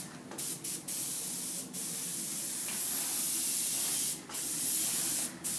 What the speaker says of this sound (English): Putting small mist coats on right now